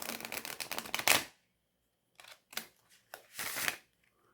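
Somnia Tarot cards, still a little stiff and slightly bowed, riffle-shuffled up close: a dense fluttering burst of card flicks ending in a sharp bridge snap, then a pause and a few softer papery shuffles and riffles.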